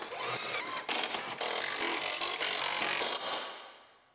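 A power tool runs bolts into a damaged 2019 GMC Sierra Denali truck, giving a continuous loud whirring, rattling buzz with brief hitches before it winds down and fades.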